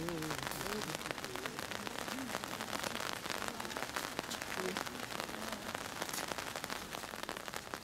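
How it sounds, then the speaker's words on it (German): Steady rain falls over the hilly old town of Prague near the castle gardens and narrow lanes, a dense continuous hiss that fills the whole stretch, with faint voices murmuring underneath. "Im Regen gehen wir weiter hinunter durch teilweise enge Gassen"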